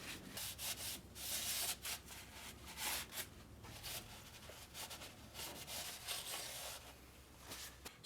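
Scrubbing and rubbing on the gasket mating surface of an automatic transmission case on a Sprinter van, a steady close scraping rasp in uneven strokes with no talking.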